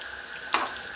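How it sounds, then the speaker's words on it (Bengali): Veg omelette pieces frying in hot oil over medium heat, a soft steady sizzle with a brief louder crackle midway. "আঁচটা আমি এখানে মিডিয়াম করে এগুলো ভেজে নিচ্ছি"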